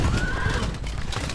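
A horse neighs in a medieval battle scene from Stronghold Legends, a whinny rising over a dense bed of hoofbeats and battle noise, with no talking.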